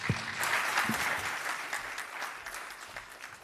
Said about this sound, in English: If you could give them, please, a nice round of applause.